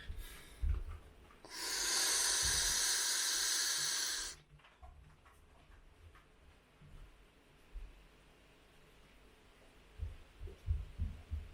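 A single breath blown into a Lumen breath-testing device, a steady breathy hiss lasting about three seconds, close and alone, with quiet handling noises before and after.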